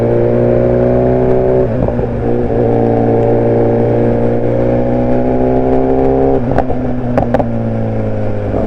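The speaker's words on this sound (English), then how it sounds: "There those pops and bangs go." A BMW car engine revs up and settles, loud and close, with a wavering tone. Near the end, a few sharp exhaust pops and bangs crackle through.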